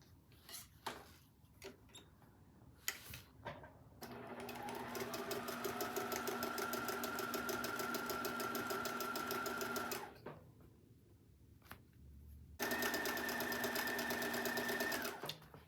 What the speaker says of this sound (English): I'm going to sew them together in pairs along the long sides.